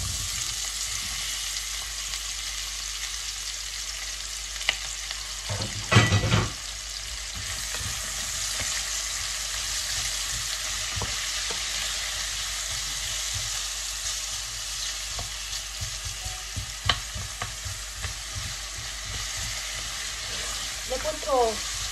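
Chopped onion frying in a pan for liver in sauce, a long steady hiss and crackle with a few knocks and clatters of a utensil, and faint voice in places.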